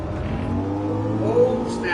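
A Ford race car engine in Gran Turismo 7 hums and revs steadily, climbing slightly in pitch near the end, under a voice speaking.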